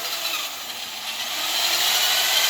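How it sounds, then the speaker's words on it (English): A power drill with a new bit bores into metal while a racing lawn mower is being built, giving a steady, close, high-pitched grinding whine that builds a little louder toward the end. "That new drill bit's putting in work."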